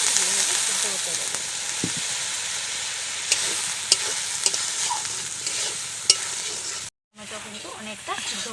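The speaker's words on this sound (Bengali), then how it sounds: "টমেটোটাকে ভালোভাবে সিদ্ধ হতে দেব।" Tomatoes cook in oil with salt, giving a steady close sizzle with occasional spatula scrapes and taps, cut off by a brief silence before the frying resumes.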